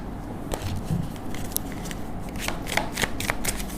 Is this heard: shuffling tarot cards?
yes